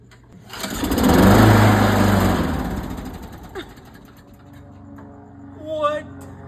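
A lawn mower engine roars loudly for a couple of seconds and then settles into a lower running drone, with a voice briefly over it near the end.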